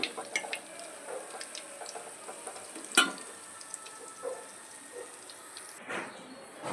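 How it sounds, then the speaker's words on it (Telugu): Ulava burelu, horse gram fritters, frying in oil give a soft, steady sizzle with scattered small crackles and one sharp tap partway through. "ఆయిల్లో బాగా ఫ్రై అవ్వాలి."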